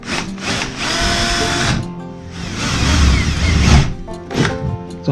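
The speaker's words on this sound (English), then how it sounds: "drilling a hole through the camper." A power drill bores through the foam-insulated wall of a cargo trailer camper, its motor whining steadily and close for several seconds, dipping briefly and then surging again as the bit bites in.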